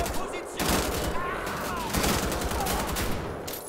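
Gunfire in the video game Wolfenstein: The Old Blood, rapid overlapping shots rattling through a fight and heard fairly quietly, with someone talking over the shooting.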